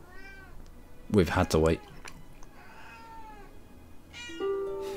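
Two pet cats meow indoors, a loud drawn-out cry standing out between quieter mewls, while a person talks softly nearby.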